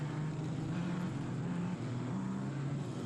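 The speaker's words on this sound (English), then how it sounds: "See the cars still weaving back and forth, trying to get and keep some temperature into the tires" F4 race cars weave back and forth on the track at VIR, their engines a steady, fairly distant droning hum with several pitches wavering and overlapping as the cars move.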